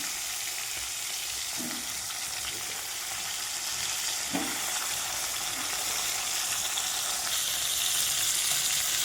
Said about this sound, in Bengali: তেল গরম হয়ে গেছে, মাছটা দেবো।